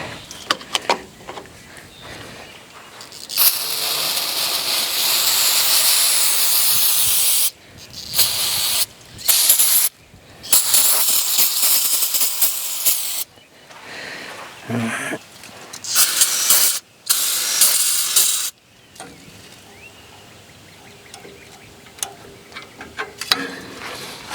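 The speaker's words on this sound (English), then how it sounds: "let me get the carb cleaner here." Repeated hissing bursts of carburetor cleaner aerosol spray on a Ford farm tractor, several long blasts separated by short gaps, loud and close, with faint clicks between.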